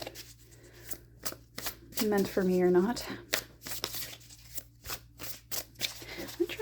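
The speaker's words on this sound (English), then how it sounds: "I'm gonna try shuffling this way" Large oracle cards are shuffled by hand in quick, close, papery riffles and slaps repeating at a steady pace, while someone talks softly over them.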